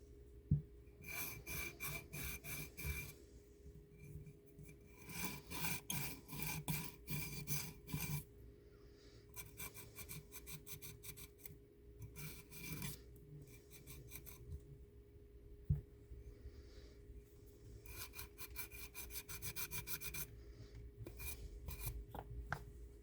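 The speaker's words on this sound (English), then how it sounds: "I'd have to do more sanding." Hand-sanding a demolded Hydrocast eco pour mold with water, a rapid rhythmic scratchy rasp in repeated bursts with short pauses, close by and without talk.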